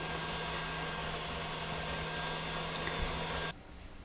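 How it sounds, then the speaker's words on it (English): A KitchenAid grain mill attachment grinds a mix of einkorn, spelt and rye berries, giving a loud, steady motor whir that runs close and unbroken for about three and a half seconds before cutting off abruptly. "I am using a mixture of einkorn, spelt, and rye berries for that in my KitchenAid attachment"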